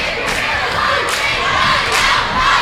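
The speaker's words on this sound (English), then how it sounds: "crowd for Kenwood not going down easy. They're cheering on their cheerleaders as well" Loud high school basketball crowd at a Kenwood HS boys game, roaring and shouting continuously with swelling bursts of cheering for the cheerleaders on the sideline.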